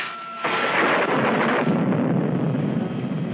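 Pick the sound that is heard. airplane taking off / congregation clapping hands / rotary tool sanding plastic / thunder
thunder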